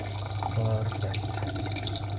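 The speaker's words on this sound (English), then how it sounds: "I'm gonna reset to make sure it's draining out." A Zanussi dishwasher drains water with a steady low pump hum and soft gurgling, moderately loud and continuous, with no talking.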